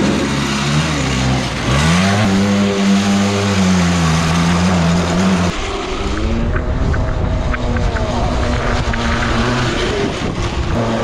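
A homemade trike driven by a 210cc two-stroke paramotor engine revs loudly up close, its buzzing pitch rising and falling in a steady drone before settling into a rougher, busier running sound.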